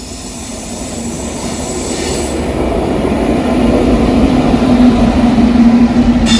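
The Alappuzha–Dhanbad express passenger train rumbles loudly and steadily past on the Ernakulam–Thrissur route in Kerala, wheels clattering on the rails, with a faint metallic squeal running under the noise.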